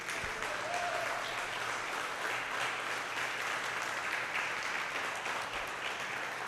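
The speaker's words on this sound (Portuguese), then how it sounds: "Diz glória a Deus e dá um aplauso ao Senhor Jesus" A church congregation claps in sustained, dense applause at a worship service, steady and fairly loud for the whole stretch with no one speaking over it.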